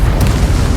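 A Confringo spell blast in the video game Hogwarts Legacy, a loud, deep booming explosion that fills the short moment with rumbling low-end energy and no speech.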